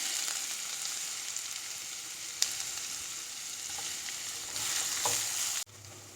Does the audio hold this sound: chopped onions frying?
yes